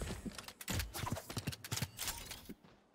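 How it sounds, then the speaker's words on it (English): Rapid run of in-game footsteps thudding on a hard surface in a multiplayer shooter, many quick overlapping steps, fairly loud and close before fading near the end. "I hear a bunch of footsteps though."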